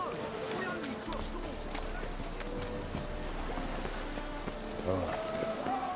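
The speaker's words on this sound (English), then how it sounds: "It's raining again." Rain falls in the video game The Witcher 3, a steady soft patter that runs throughout at low volume, with faint thuds and scattered clatter. Voices talk over it.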